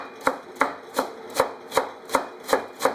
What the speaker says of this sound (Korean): 그래서 당근을 썰어줄게요